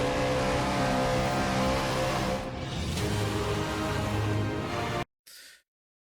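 A Porsche 911 GT3 (991) and an Aston Martin Vantage race in the Project Motor Racing game, their engines revving loud and sustained with rising and falling pitch, then cutting off sharply, followed by a brief burst.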